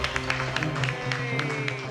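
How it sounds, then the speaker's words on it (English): Studio audience at a cooking competition cheering and clapping as the countdown ends, a dense close burst of applause with rhythmic claps and whoops filling the whole moment. "Thanks for cheering me on."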